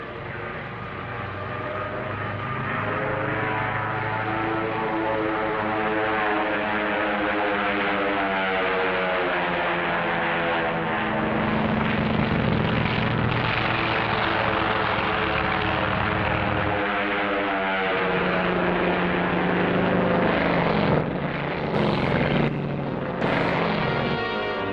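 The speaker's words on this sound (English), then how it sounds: "the drone aircraft are launched and temporarily guided from the carrier" Drone aircraft launched from a carrier during the 1946 Operation Crossroads atomic tests drone with a loud, sustained, buzzing engine tone that shifts slowly in pitch, continuous and close for the whole stretch.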